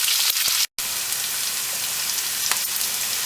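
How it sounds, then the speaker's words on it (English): Onions frying in oil with mustard seeds and curry leaves for a Malabar Coast curry, making a loud, steady sizzle with a brief gap early on. "our onions are starting to brown nicely, and those mustard seeds and curry leaves have flavoured the oil"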